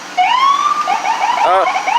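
A loud wailing ambulance siren sweeps up and down nearby in Boston, the tone rising and falling continuously.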